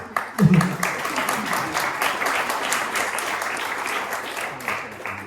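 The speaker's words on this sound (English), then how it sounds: "thanks to Alexandra, a round of applause" An audience at a talk for digital nomads and remote workers breaks into steady applause, a dense wash of clapping with a faint voice at the start.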